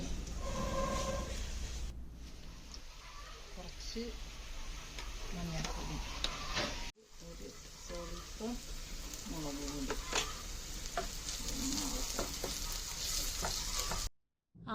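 Ivy gourd stirred and fried with salt in a pan, soft scraping and light sizzling with brief pauses, heard faintly while someone talks over it.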